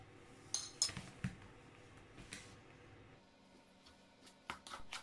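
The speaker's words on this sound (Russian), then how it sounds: "Вот так все хорошо перемешала." Quiet clinks and taps of a utensil against a bowl while mixing sugar and vanilla sugar for carrot cookie dough, a few sharp knocks amid soft scraping, close by with no talking.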